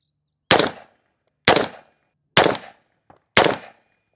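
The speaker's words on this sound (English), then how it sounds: "let's go ahead and take a couple shots with no can" Four loud, sharp reports from an unsuppressed 5.56 rifle, fired about a second apart outdoors, each with a short decaying tail and a faint click between the third and fourth shots.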